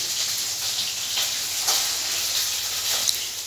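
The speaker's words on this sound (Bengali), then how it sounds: "যা মাছটা ভাজছে" Fish frying in hot oil in a home kitchen, a steady close sizzle with a few brief spattering pops, continuous and alone.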